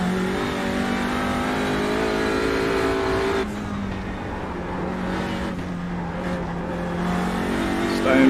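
A TCR race car screaming near redline in fifth gear around the Nordschleife at night in a racing game, a steady, loud engine drone that dips slightly partway through, then holds and builds again.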